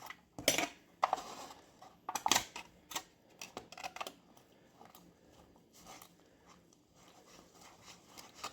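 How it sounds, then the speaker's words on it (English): A spoon stirring oats cooking in a pot, scraping and clinking against the metal in irregular close strokes, louder at first and then settling into softer, quieter scrapes without speech. "So I like to stir."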